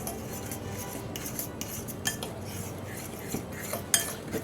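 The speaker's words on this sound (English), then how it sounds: "Mix the eggs around." Utensil clinking and scraping against a bowl as eggs are mixed with garlic and seasonings for lasagna filling, a steady rhythm of small taps and stirs, close and fairly quiet.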